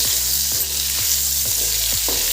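Cauliflower pieces frying in oil in a kadai, a steady close sizzle with soft periodic stirring scrapes about every half second.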